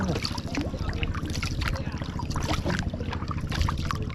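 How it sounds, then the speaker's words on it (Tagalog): Paddling a small boat by hand at sea after a spring was removed from its engine, with steady water splashing and wind noise on the microphone, continuous and close, and voices talking nearby. "bali saguan muna tayo. Gawa nung natanggal yung ano, yuyo ng makina."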